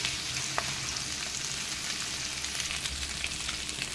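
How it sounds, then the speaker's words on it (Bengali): Small mourola fish sizzle quietly in hot oil, a soft, continuous crackling hiss with a few faint pops. "এইভাবে এপিঠ ওপিঠ ভালোভাবে ভেজে নিচ্ছি"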